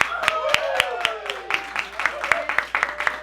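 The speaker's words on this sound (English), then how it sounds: "And let's give a round of applause for Keep Waco Loud." Audience at a Keep Waco Loud open mic event gives a round of applause, a steady run of sharp claps mixed with a speaking voice and some tonal sound over it.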